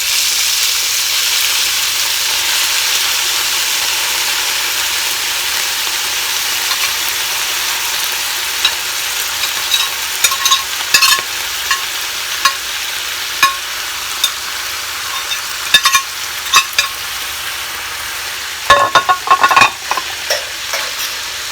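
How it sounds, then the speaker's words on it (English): Pork fries in melted lard in a hot skillet, a loud, steady sizzle that runs throughout, joined later by scattered clicks and scrapes of stirring. "We've got the skillet hot. We've got the lard melted. And now we're going to add this wonderful pork."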